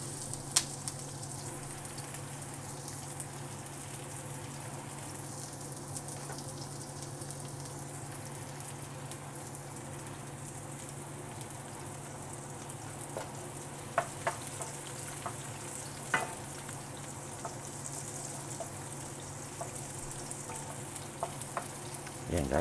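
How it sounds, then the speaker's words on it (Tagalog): Garlic and onion sautéing in a pan for ginisang upo with sardines, a steady close sizzle and crackle with occasional stirring clicks, no talk. "ginigisa na natin ang ating bawang, sibuyas"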